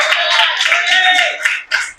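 A church congregation claps together at a Sunday service, a dense sustained burst of many hands that thins out near the end.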